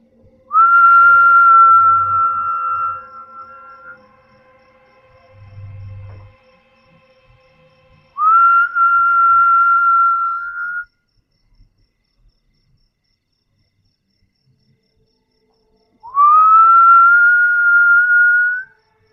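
Three long sustained whistled notes from a person, each lasting a few seconds with pauses between, clear and fairly loud, with faint low thumps in the first gap.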